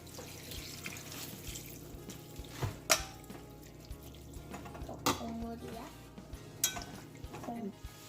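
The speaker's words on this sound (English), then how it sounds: "Now I'm gonna pour 1 cup of water." A cup of water poured into a pot of Korean seaweed soup with beef and soy sauce, a soft splashing trickle with a few clinks of the pot and utensils, while someone talks over it.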